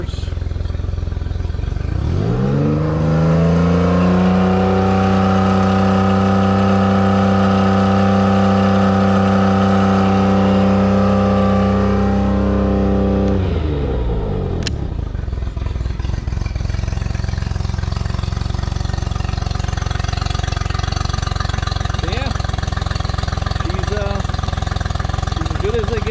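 A 2017 Lowe Stryker 16 boat's outboard motor revs hard in reverse for about twelve seconds, a loud steady rising drone that cuts off abruptly, followed by a lower rumbling idle with faint background noise.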